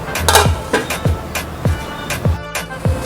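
A lid set down on a pot of boiling vegetables for a veg kuruma, making a clear clink at the start, followed by repeated light metallic taps and knocks that recur about every half second up close.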